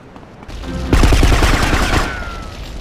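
Rapid automatic gunfire in the video game GTA Vice City Stories, a loud sustained burst of shots lasting about a second over game background noise, then fading with a lingering echo.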